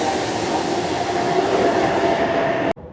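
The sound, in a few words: metro train arriving at station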